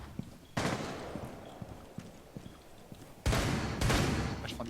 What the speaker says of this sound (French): Ah, je prends des balles.